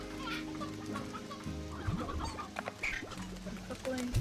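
Cartoonish chickens cluck repeatedly in the farm game Slime Rancher, several birds overlapping in a busy, steady stream of short clucks layered over game background music, with no talk.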